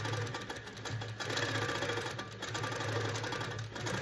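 A Handi Quilter Pro Stitcher quilting machine stitches a quilt with a steady, continuous mechanical whir and rapid needle chatter, even and unbroken for several seconds with no voices.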